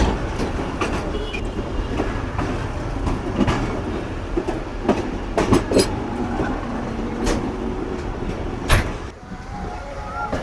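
A passenger train pulls into the platform at Kotri Junction, a steady rumble of wheels and carriages with scattered clanks and knocks rising through the run, then a brief dip near the end.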